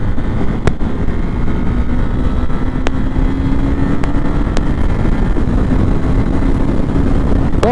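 A KTM Duke 390 motorcycle accelerates along a highway, its engine note climbing steadily beneath loud, continuous wind rush, with no speech.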